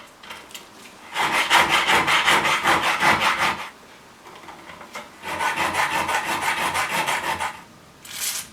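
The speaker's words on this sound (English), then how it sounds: "Then when I'm filing it like that, I'm bearing on the washer and not on the casting face" Hand file rasping across a metal casting on a Hayabusa oil cooler mounting, two long bursts of rapid back-and-forth strokes, close and loud, separated by a pause, with a short third burst at the end.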